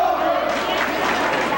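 A student crowd at a high school hockey game between New Trier and Glenbrook North chants loudly in unison in response to rivals, a dense, continuous roar of many voices close and filling the rink.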